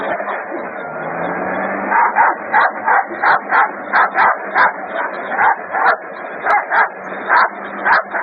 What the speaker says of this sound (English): That's the cutest puppy in the world, man.